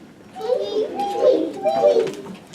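Young children's voices imitate birdsong together in a classroom, a few chirping, cooing calls rising and falling in bursts over about two seconds, close and moderately loud.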